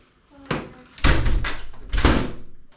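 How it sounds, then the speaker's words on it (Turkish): A door being shut indoors at home, heard as a few solid thuds and slams close by, with faint voices in the background. "Kapıyı kapat hadi."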